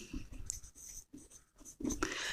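Marker strokes on a classroom board write out a word, a few scratchy bursts broken by brief pauses, close and clear, with a voice speaking faintly around them.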